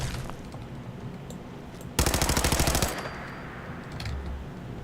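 Rapid burst of automatic gunfire from the player's gun in Fallout 4, about a second of evenly spaced loud shots standing out over steady background game sound.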